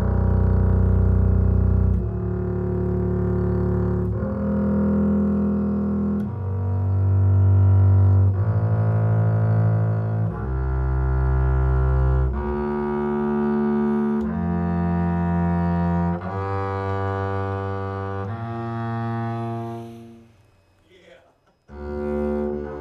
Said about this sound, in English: I will begin my demonstration of this five-string Stoll with some long tones and a scale